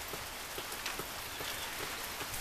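Steady rain pours down, a dense hiss of drops falling on a surface, constant and fairly close with no voices.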